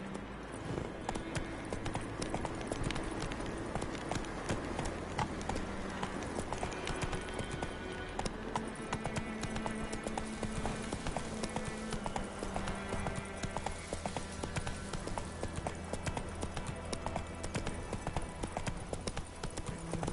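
Roach, a horse in The Witcher 3 video game, gallops with a steady, continuous clip-clop of hooves running through the whole stretch, loud and close, over a layer of game ambience and music.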